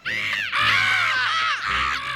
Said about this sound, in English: I must apologize for these foolish crows, Rupert.